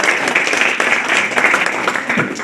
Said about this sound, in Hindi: इसके लिए ताली, इसके लिए ताली।